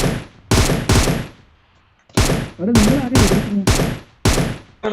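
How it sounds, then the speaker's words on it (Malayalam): Video game gunfire cracks in loud, close bursts, with several separate volleys of rapid shots broken by short pauses and a voice briefly under the shooting. "നിങ്ങളെന്താ വെടിവെക്കുന്നത്?"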